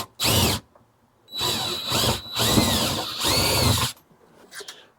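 A power drill whirring through wooden deck boards in several bursts, a short one then a longer stretch, loud and close with quiet gaps between.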